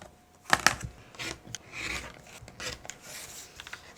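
Trimming sewn quilt fabric pieces for an improv ladybug block, with close scraping and cutting scratches, a sharp pair of snips near the start and then softer rubbing and cutting strokes throughout.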